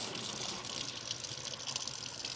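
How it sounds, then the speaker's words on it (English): Water runs steadily from a tap as a lotus root soup pot is rinsed, a continuous bright gushing splash close by with no talk. "get this on warm water, like coolish water, pour it out, and just really rinse"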